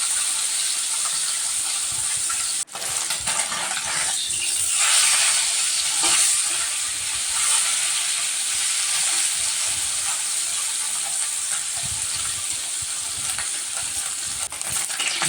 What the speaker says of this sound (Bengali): এদিকে আমার মাছ ভাজা প্রায় কমপ্লিট হয়ে গেল, মাছগুলো ভেজে ভালো করে উঠিয়ে নিলাম